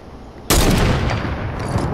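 Gunfire in a video game where rockets are sent and then a sniper shot follows: a sudden loud burst of blasts with rattling decay, close and dense, with no voices.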